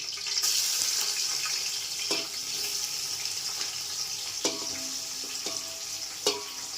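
Green chillies and onion frying in hot oil give a steady, bright sizzle close by. Occasional sharp clicks and scrapes break through it.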